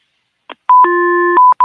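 A telephone being switched on: a short click, then a series of loud, clean electronic beeps and a sustained dial tone, with brief pauses between tones and no voices.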